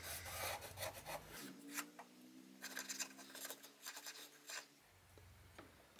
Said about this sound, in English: I want to go ahead and mark the outline so that I can trim off some of the excess